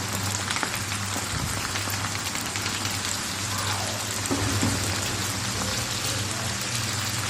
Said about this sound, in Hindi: मैं यहाँ पे इनको डीप फ्राई कर रही हूँ